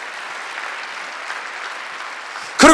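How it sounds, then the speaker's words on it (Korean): A church congregation at a Sunday worship service claps steadily in a continuous wash of applause, moderately loud, cut off at the end by the start of a voice. "박수 좀 세게 쳐요, 진짜입니다."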